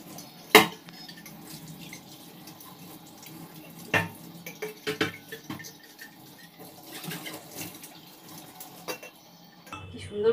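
New kitchen utensils being washed under a running tap, with clinks and clatters of metal and dishes against the sink over a steady trickle of water, a sharp knock at the start.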